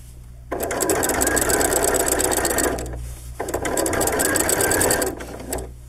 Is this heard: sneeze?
no